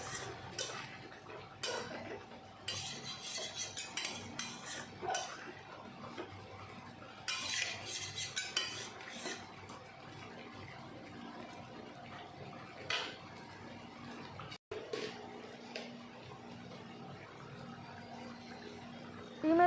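A spoon scrapes and clinks against a pot of duck egg curry simmering in coconut milk, soft intermittent stirring knocks over a low steady background hum, with no talking.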